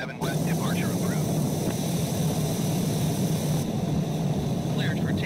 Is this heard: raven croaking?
no